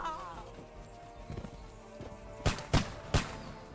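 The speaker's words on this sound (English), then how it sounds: "We're getting shot at!" Gunfire in the video game Kingdom Come Deliverance 2 cracks out in three sharp, loud shots late on, after scattered softer impacts and game noise. A voice calls out over the action.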